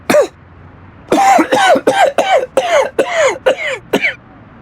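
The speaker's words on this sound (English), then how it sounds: "I need something for a sore throat and can't stop coughing." A man's harsh coughs and throat clearing, one short cough followed by a rapid run of about eight barking coughs, close and loud with quiet between bursts.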